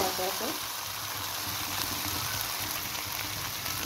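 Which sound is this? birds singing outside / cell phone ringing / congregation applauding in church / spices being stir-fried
spices being stir-fried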